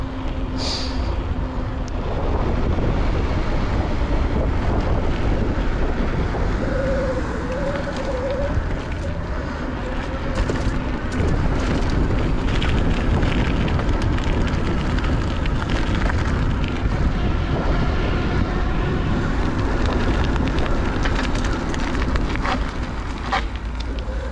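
Strong wind buffets the microphone during an e-bike ride on a Cannondale mountain bike, a loud continuous roar with gusty rumble and no talking.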